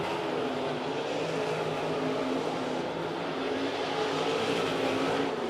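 Sprint cars in a 305 class race roaring steadily past on a dirt oval, a dense continuous engine drone with no break, loud and close throughout.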